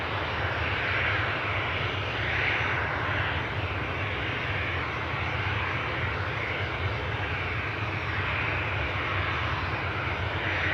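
A KLM Embraer jet's engine roars steadily at an airport, a loud and unbroken drone that lasts the whole time with no talk.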